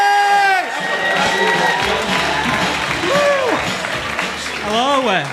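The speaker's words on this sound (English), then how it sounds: "Let's keep that applause going" A crowd claps and cheers loudly and steadily, with whoops and shouts rising over the applause throughout.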